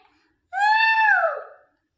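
A voice imitates a cat's meow: a single drawn-out, rising-then-falling mew, loud and close in an otherwise quiet room.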